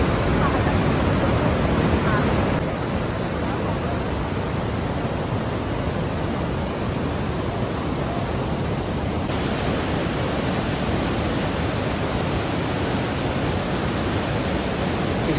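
Roaring river rapids at Tiger Leaping Gorge in Yunnan make a dense, unbroken torrent of rushing water, loud and steady throughout, with no clear voices over it.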